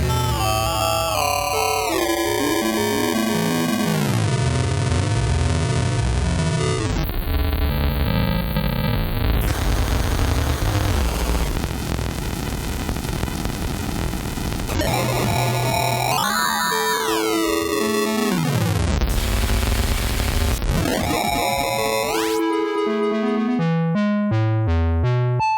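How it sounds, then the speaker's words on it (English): Heavily processed delay effect from a Collision Devices Crushturnal pedal, with pitch-swept, repeating echoes, dense hum-like drones and glitchy sweeps that turn into stuttering fragments near the end, steady and loud with no talk. "Now I'll make it a delay again."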